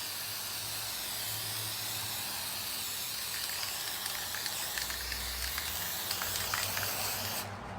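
A spray paint can hisses steadily onto window glass for a mercury glass effect: one long, even, continuous spray that stays close and fairly loud, with a slight flutter near the end before it stops abruptly.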